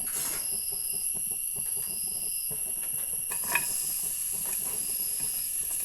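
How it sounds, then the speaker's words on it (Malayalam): Onions sauté in coconut oil in a pan while preparing an egg curry, giving a steady, even sizzling hiss up close with an occasional light utensil clink. "ഇതിലേക്ക് കുറച്ച് വെളിച്ചെണ്ണ ഒഴിച്ചിട്ട് നമ്മൾ ഈ ഉള്ളി ഇട്ട് കൊടുക്കാൻ പോവാണ്"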